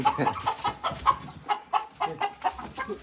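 Chickens cluck in a quick, repeated rhythm close by, the clucks coming in short bursts with no talking.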